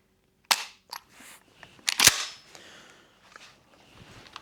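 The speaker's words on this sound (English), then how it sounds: "There are no shells in here. So you can then fire." An empty Mossberg Shockwave shotgun is dry-fired, giving a few sharp metallic clicks and clacks of the action, close and crisp, separated by brief quiet gaps.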